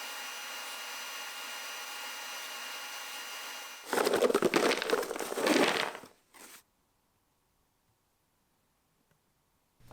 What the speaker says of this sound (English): I use the same setup to cut all the walnut tiles as well.